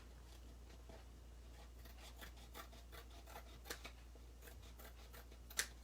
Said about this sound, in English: let me just trim that a little bit better